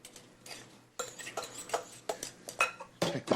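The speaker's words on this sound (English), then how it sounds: "just mix it up like any salad" Salad leaves with a little pepper being tossed in a bowl, a series of soft clinking, rustling bursts with light utensil taps, close and fairly quiet, no voices.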